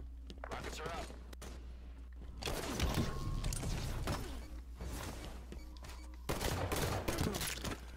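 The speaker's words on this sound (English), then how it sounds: "Watch the enemy fire." Enemy gunfire in a Halo 5 multiplayer match crackles in dense bursts throughout, swelling louder in the second half among other game sounds.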